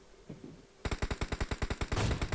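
Gunfire in a battle royale video game: after a brief quiet start, a rapid run of about a dozen loud, sharp shots fires in close succession.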